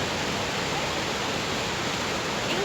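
Steady, dense roar of a waterfall at Cachoeira do Chuchu in Cambé, Paraná, rushing water filling the whole clip evenly and close at hand.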